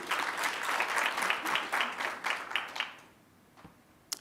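Audience applause fills a hall at a 2020 women-in-infrastructure awards ceremony, a dense steady wash of clapping for about three seconds before it thins out and falls nearly silent, with one last sharp clap at the end.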